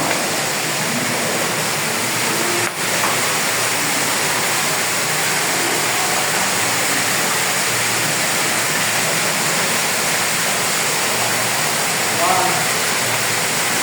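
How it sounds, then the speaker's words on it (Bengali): A waterfall pours in a continuous loud, broadband rush of falling water, steady and close throughout with no pauses. "ঝর্ণা"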